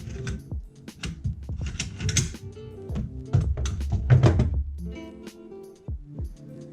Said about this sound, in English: So let's take this bolt out and take a look at it.